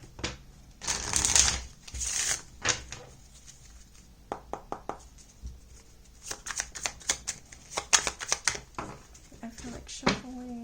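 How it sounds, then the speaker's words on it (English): Tarot cards are riffled and shuffled at close range in a series of quick, crisp papery bursts and slaps, with a person speaking softly between the shuffles. "I feel like shuffling"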